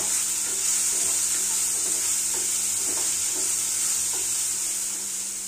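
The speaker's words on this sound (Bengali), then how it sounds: "গাজরটা সব কিছুর সাথে ভালোভাবে নাড়াচাড়া করে নেব।" Sliced carrots are stir-fried with tomato in a pan, a constant hiss of sizzling oil with soft, irregular scraping from stirring underneath.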